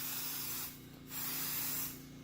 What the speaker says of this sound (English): I'm going to use this scanning spray. There's any number of these scanning sprays on the market, and I'm just going to spray this denture down real good.